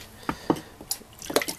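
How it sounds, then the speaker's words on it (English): Water spatters over a sharpening stone being rinsed after flattening, with a few close, light drips and splashes scattered irregularly across a quiet moment. "rinse with the water."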